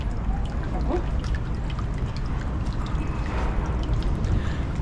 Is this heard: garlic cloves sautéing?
no